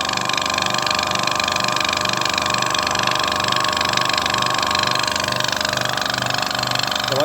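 Dry-Pac Pro compressor filling and pumping air, a loud rhythmic pulsing thump repeating evenly over a steady mechanical hum.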